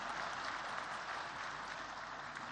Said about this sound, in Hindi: तालियां आपकी शुभकामनाओं की तरह हैं, इन्हें देते रहिए।